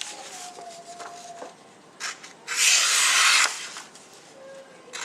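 A Kershaw Clash folding knife blade shaves curls off a piece of wood, giving scraping rasps with a louder, sustained carving stroke in the middle, close and alone.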